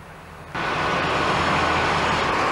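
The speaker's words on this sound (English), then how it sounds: "Train now approaching platform 2, and it's the delayed 12:35 diesel service from Minehead." A delayed diesel passenger service from Minehead draws into a station platform, a loud steady rumble and roar that swells in abruptly and holds, with no talking.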